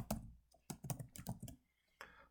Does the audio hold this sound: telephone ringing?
no